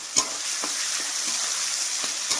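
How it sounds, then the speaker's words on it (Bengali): Onions for mutton curry frying in hot oil with dried green chillies, a steady close sizzle with a few sharp crackles and pops scattered through. "পেঁয়াজগুলোকে ভালো করে 10 মিনিট আমি ভেজে নেব।"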